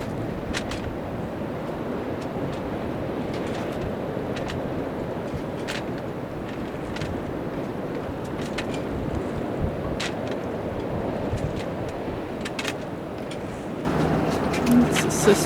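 Hurricane Dorian wind and waves at a boat mooring, a constant heavy roar of gusts buffeting the microphone with sloshing water and rattling rigging, rising louder at the end, with a person talking over it.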